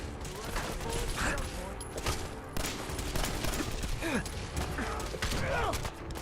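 Gunfire in Fallout 4, with scattered shots and clattering mechanical bursts over a busy game soundscape of creaks and effects, at moderate loudness and without clear speech.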